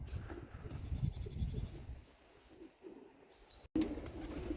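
Homing pigeons settle in to land at a loft, with soft cooing and low fluttering near at hand, a brief gap, then rustling resumes.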